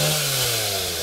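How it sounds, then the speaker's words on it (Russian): A chainsaw cutting tree branches beside a pond, its engine droning loudly and steadily with a strong low whine that eases slightly in pitch over the short burst. "Не будет слышно из-за пилы."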